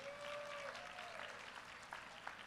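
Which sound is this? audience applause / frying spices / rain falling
audience applause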